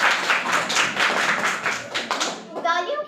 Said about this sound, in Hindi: तालियों की गड़गड़ाहट में